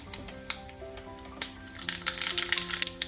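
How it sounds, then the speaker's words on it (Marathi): Mustard seeds sizzling in hot oil for an idli tadka, starting with a few sparse pops and then swelling into a dense, crackling sizzle close by, with a faint steady tone underneath. "तडक्यासाठी तेल घेतलेलं आहे, त्यामध्ये मोहरी घालायची आहे"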